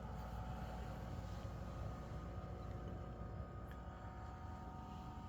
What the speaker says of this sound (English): there's a very minor noise that's coming out of the cooler.